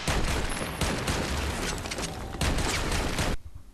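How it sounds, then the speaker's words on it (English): Loud, dense bursts of gunfire mixed with booming blasts in the video game Army of Two on Xbox 360, continuous and harsh, cutting off abruptly near the end. "The gun blasts and explosions are not at all awe-inspiring."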